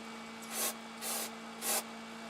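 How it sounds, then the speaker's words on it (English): Three short hissing bursts of aerosol spray, evenly spaced, close to the microphone, with a steady faint hum underneath. "I'll give it a quick spray over"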